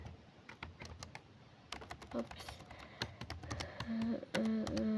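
Typing on a computer keyboard while filling in an HTML form, a rapid irregular patter of close key clicks, with faint tonal sounds and a low voice underneath.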